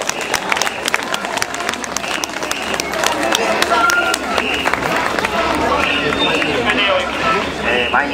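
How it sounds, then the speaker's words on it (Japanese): A festival crowd applauds as a float is carried in during the Iizaka fight festival, scattered claps rising over a bustling outdoor hubbub with voices mixed through the steady noise. "会場の皆さん、どうぞ続々の拍手をお受けください。"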